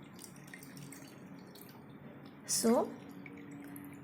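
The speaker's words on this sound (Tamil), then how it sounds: "நான் செகண்ட் கிளாஸ்லேயும் தண்ணி ஃபில் பண்ணிக்கிறேன்" Water is poured into a second glass during a simple density experiment, giving a brief bubbling gurgle over quiet room noise, with a short spoken word nearby.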